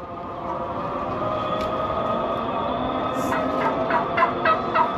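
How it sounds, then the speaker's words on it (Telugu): Domestic fowl on a rainy street in Amman, Jordan, clucking in short repeated bursts that become more frequent toward the end, over a steady wash of rain and distant traffic. "కోళ్ళు"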